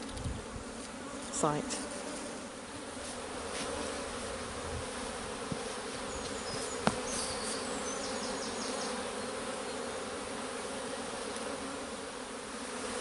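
Honey bees drone in a dense, continuous buzz around an opened hive during swarm-prevention work outdoors, a steady hum throughout with a few brief knocks and a short spoken word near the start.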